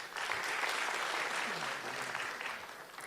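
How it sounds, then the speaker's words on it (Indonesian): An audience at a comedy roast show applauds a performer, a continuous wash of clapping heard at a low, distant level that stays steady and tapers only slightly at the end. "Tepuk tangan lo buat beliau"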